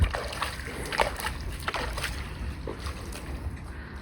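Water splashes and sloshes as a bull is washed outdoors in a village, a steady wet splattering with scattered louder slaps, fairly close, with faint voices in the background.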